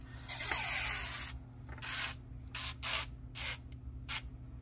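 Protective plastic film on a light pad being rubbed, giving loud squeaky, hissy scraping bursts, one long stroke followed by several shorter irregular rubs, close up with a steady low hum underneath.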